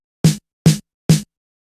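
Three tight, punchy drum-machine snare strikes tuned up about 1.8 semitones, in steady succession, each short and bright with a snappy body, separated by silence.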